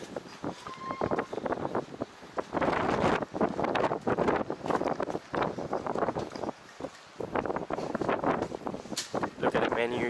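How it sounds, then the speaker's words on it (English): Strong wind buffets the microphone at an outdoor spot in the Netherlands, roaring in loud gusts throughout with a steady rush beneath, while a person talks over it. "And the wind's quite strong here."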